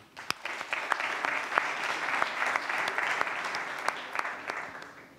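Audience applause fills an expo hall at a biomimicry challenge finale, a dense steady wash of many clapping hands with a few sharp louder claps standing out, sustained for several seconds without talk.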